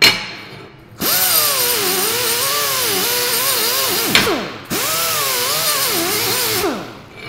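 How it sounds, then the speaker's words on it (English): A wire wheel on a power tool scrubs a still-warm TIG weld, two long grinding passes with a wavering whine that rises and falls under changing load, separated by a brief pause as the wheel lifts off. "For that, I'm gonna start with this wire wheel because it is still kind of warm"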